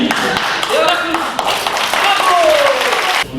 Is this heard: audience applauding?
yes